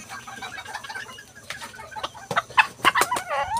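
A Serama chicken clucks close by in short repeated bursts that grow louder and busier toward the end, over a quiet background.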